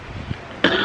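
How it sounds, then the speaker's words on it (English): A single harsh cough bursts out after a stretch of quiet room noise, close and fairly loud, from someone suffering a lingering illness with persistent coughing and hacking. "coughing and hacking"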